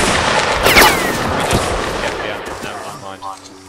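A volley of musket fire in the Mount & Blade Napoleonic Wars video game, with a cluster of sharp, loud gunshots crackling at the start, then fading into scattered echoing reports and background noise.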